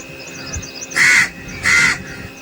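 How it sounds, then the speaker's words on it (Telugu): A crow caws twice in quick succession, close and loud, with two short harsh calls against a quiet background. "దాహముతో కాకి నీరును వెతుక్కుంటూ ఇళ్ల వద్దకు చేరుకుంటుంది."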